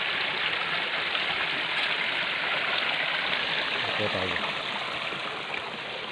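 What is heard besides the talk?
flowing river water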